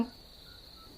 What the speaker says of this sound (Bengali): চারপাশে শুধু ঝিঝি পোকার ডাক।